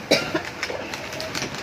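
A single person coughs in a short burst, a sharp near onset followed by a few weaker cough-like bursts, indoors with faint background noise.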